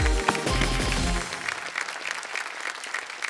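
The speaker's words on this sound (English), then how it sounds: "Just listen to that applause." Studio audience at a televised quiz show breaks into applause, a dense burst of clapping that is loudest at first and then settles into a steady, slightly thinner patter, with no voices over it.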